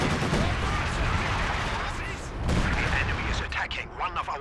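Artillery fire and gunfire in Company of Heroes 2, on a 4v4 Lienne Forest map, rumble as a dense, loud barrage with bursts of shots and booms that thin out toward the end.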